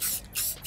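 Spray paint can hissing onto a 3D-printed plaque in three close, loud bursts, each under a second with brief gaps between.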